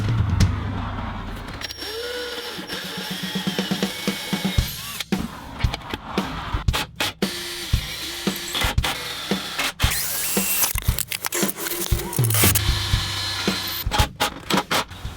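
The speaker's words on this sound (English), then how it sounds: "I'm just going to pre-drill these holes, sink these in" Repeated bursts of a power drill pre-drilling holes in wood and driving lag screws into a sofa table, with whirring motor runs, clunks and pauses between, up close and fairly loud.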